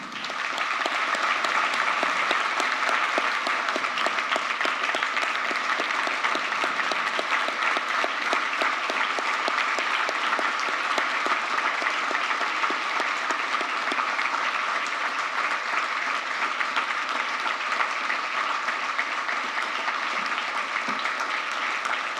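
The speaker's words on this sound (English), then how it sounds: "we want to give James a big round of applause" Sustained applause from the audience at a chamber of commerce annual meeting for honoree James, a steady, dense wash of clapping that continues evenly for over twenty seconds.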